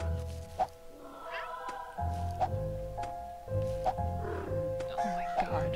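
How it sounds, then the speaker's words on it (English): A cat meows repeatedly in the cute cat platformer video game The Purring Quest, with about four clear, evenly spaced meows over a soft background while a voice talks quietly underneath. "Oh, I think it's a cat."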